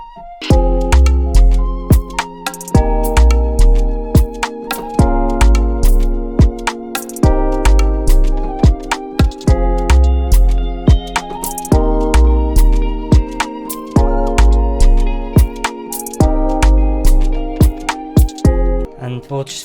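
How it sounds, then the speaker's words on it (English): Ethnic-style flute one-shot sample repeating in a steady melodic pattern inside an Afro beat, with punchy drums and bass pulsing underneath, loud and upfront for about twenty seconds. "So this sound is like a ethnic type of flute,"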